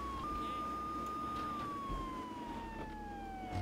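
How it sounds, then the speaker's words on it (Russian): A police car siren wails in the video game GTA 3 Definitive Edition, sounding as one steady, slowly falling electronic tone that runs continuously over dense engine and traffic noise. "включаем сирену и просто как боги едем"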